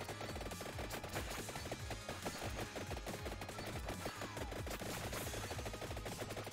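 Rune tracer weapons fire in the game Vampire Survivors as a rapid, dense rattle of clicks and impacts, constant across the whole stretch and heard at low volume.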